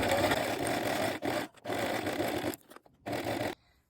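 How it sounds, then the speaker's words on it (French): Sewing machine running a zigzag stitch along a cotton T-shirt seam, 1 cm from the edge, in steady whirring bursts with short pauses between runs, close and clear with no talking. "vous allez assembler à 1 cm du bord tout le tour au point zigzag"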